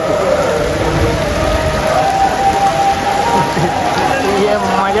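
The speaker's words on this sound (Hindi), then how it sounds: "अभी अचानक बारिश स्टार्ट हो गया है।" Sudden rain pours steadily during a Kanwar Yatra pilgrimage walk from Kolkata toward Tarkeshwar temple, a dense, even hiss filling the scene throughout, with voices blending into the outdoor wash.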